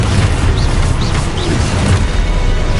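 A spell blast from the Expulso charm in Hogwarts Legacy, heard as a loud, sustained booming rumble with a few brief bursts, standing alone without voices.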